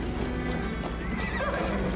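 Horse in the video game Assassin's Creed Valhalla whinnies and neighs over a steady clip-clop of hooves, close and continuous throughout.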